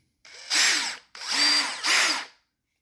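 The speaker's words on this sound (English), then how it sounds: "So the first thing you're going to need is a handy dandy drill." Handheld power drill whirring in three close, loud bursts with spin-up and wind-down, used to drill out rivets on a Yamaha Banshee clutch basket.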